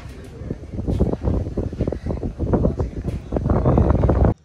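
Gusty wind blows hard at a mountain viewpoint overlooking the Dibang Valley near Anini, thumping and rumbling against the microphone in close, uneven bursts with a voice speaking underneath, ending abruptly.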